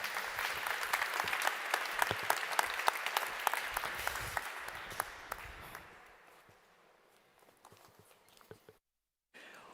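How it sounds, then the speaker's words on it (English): An audience at a public event in a Berlin natural history museum applauds to welcome a speaker, clapping loud and dense at first, then thinning and fading out, ending in near silence. "please welcome Katja Köhl with a warm clapping hands"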